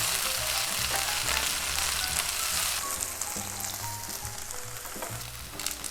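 Korean vegetable pancake frying in oil in a pan, a dense continuous sizzle up close that eases slightly in the second half, with a faint scrape or two.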